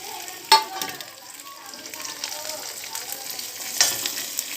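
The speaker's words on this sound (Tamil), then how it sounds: "வெங்காயம் நல்லா வணங்கி கருவேப்பிலை போட்டேன் தக்காளி போட்டுடலாம்" Onions and curry leaves fry in hot oil for a fenugreek curry, giving a soft steady sizzle close by, with a couple of sharper bursts when the pan is stirred.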